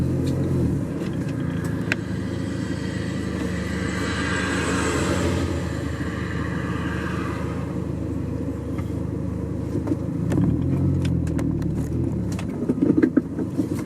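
A Volkswagen Jetta, which had an open downpipe, drives along with a steady low engine and exhaust rumble, a moderately loud interior drone that swells briefly and ends with a few clicks.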